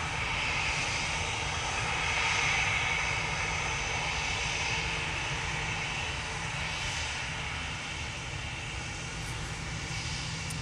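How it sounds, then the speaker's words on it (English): An EasyJet passenger jet passing over Manchester Airport, bound for Bordeaux, with a steady loud engine roar holding throughout and no talk. "So we've got the EasyJet to Bordeaux now."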